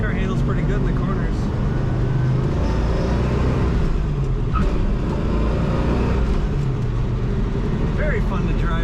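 A 1969 Chevrolet Camaro Z28 with a stick shift drives in second gear through a roundabout, its engine a steady loud drone with road noise, and someone talks over it throughout.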